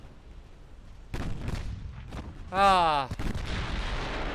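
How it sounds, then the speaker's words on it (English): Explosions and artillery fire rumble from a distant naval battle in the warship game Ultimate Admiral Dreadnoughts: several dull booms roll over a steady background, with a short voiced exclamation partway through. "Just revel in the explosions in the distance."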